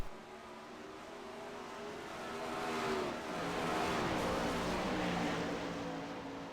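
410 sprint cars racing at Knoxville, with a steady, loud roar of several engines holding a continuous pitch and rising slightly as they sweep past, heard at a distance on the dirt track.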